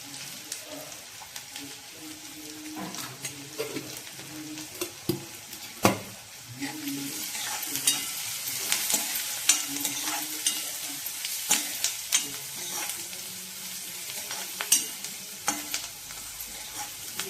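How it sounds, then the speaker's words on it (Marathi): Onion fries in a pan with turmeric and a pinch of asafoetida for a spinach dish, a continuous crackling sizzle broken by irregular spatula scrapes and knocks against the pan, close-up, no one speaking. "छान कांदा आपण परतून घेऊया"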